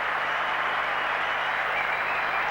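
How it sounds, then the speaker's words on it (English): A football crowd at the 1987 Full Members Cup Final between Blackburn Rovers and Charlton Athletic applauds as Scott Sellers is substituted, a steady, distant wash of clapping that holds evenly throughout. "Sellers leaves to a generous round of applause."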